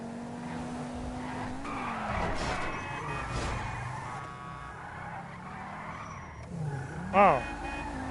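A video game car skids and scrapes, with a sustained engine drone, gliding tire pitch, and a sharp squealing burst near the end.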